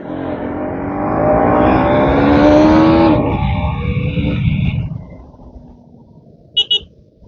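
A KTM Duke 250 motorcycle revving and pulling away through the gears on a road, a loud rising engine note close by that eases and fades, followed by a brief double horn toot.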